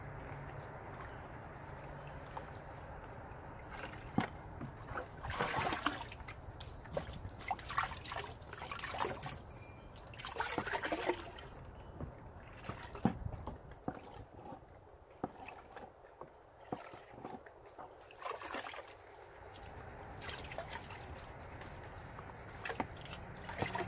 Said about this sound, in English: So let's pan this real quick. And I'm using my Garrett's Gravity Trap.